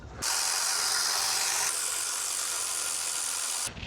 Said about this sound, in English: I'm gonna use my handy dandy electric ratchet because it's faster